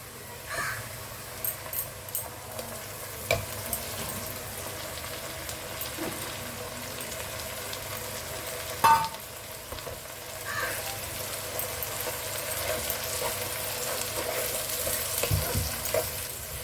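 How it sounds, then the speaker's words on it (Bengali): Onion paste frying and being stirred in a pan of oil for mutton masala curry, a steady sizzle with scraping spoon strokes and occasional clatters, close and moderately loud, no talking. "এবার আমি পেঁয়াজ বাটাটা দিয়ে দেবো।"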